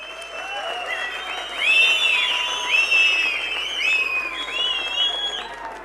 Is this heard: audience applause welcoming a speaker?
yes